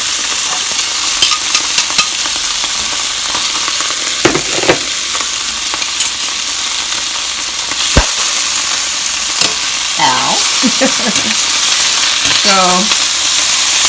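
Apples and onions sauté in a pork chop pan with apple juice, a loud steady sizzle with occasional utensil clicks and scrapes, while someone speaks briefly over it.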